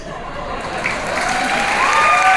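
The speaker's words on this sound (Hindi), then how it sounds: "जोरदार तालियां।" Steady applause from a crowd, growing slightly louder and denser as it continues, with a faint murmur beneath the clapping.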